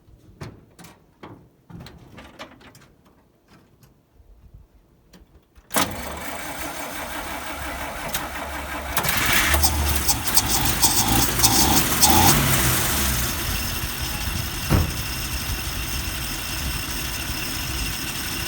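A 1938 Chrysler Royal engine cranks in a few brief starter bursts, then catches and runs, settling into a loud, steady, rough idle close by.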